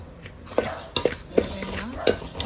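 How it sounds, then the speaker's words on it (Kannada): A spoon scraping and stirring semolina (rava) as it roasts in oil in a pan, with several distinct scrapes and clinks against the metal at an irregular pace, close and fairly quiet, with no talk. "ರವೆನ ಹೀಗೆ ಎಣ್ಣೆ ಹಾಕ್ಕೊಂಡು ನೀಟಾಗಿ ಹುರ್ಕೋಬೇಕು"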